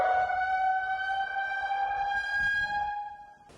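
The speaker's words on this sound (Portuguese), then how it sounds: "As sirenes de alerta precisaram ser acionadas." Civil defense warning sirens sound in Salvador, Bahia during heavy storms: a loud, sustained wail with steady harmonic tones that holds throughout, then fades slightly at the end.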